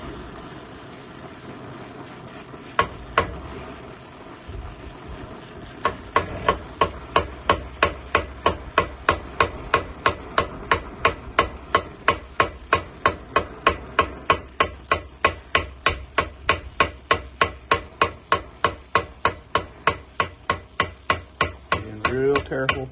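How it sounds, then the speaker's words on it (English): A hammer forges hot steel into a knife spacer, starting with a few scattered strikes and then settling into a long, steady run of sharp, evenly spaced blows, close and loud. "If the heat gets low, you'll hear it, the sound, and you'll feel it in the hammer how it's not soft anymore."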